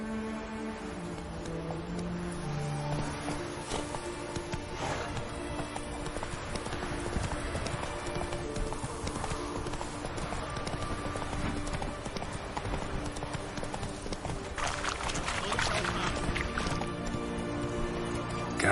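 Rhythmic clip-clop of the horse Roach galloping in a video game, hoofbeats steady and fairly close, with faint ambient tones and water-like sounds beneath.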